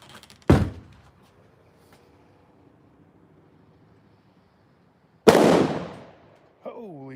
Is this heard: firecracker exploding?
yes